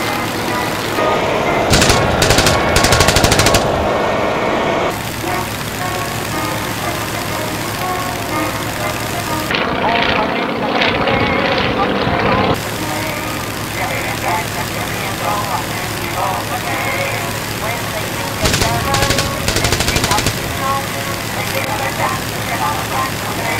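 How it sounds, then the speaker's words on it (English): Machine guns rattle from World War One fighter planes during a staged dogfight reenactment, mixed with droning aircraft engines, while someone narrates over the steady din. "Kempf also gets a few shots in at the Bristol, and the British aircraft is finally shot down."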